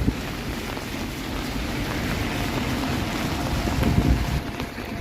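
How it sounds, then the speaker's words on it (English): Gusty wind buffets the microphone on a Toronto city street on a stormy evening, a loud continuous rushing roar that swells toward the end, with no one speaking. "All of a sudden it's getting windy."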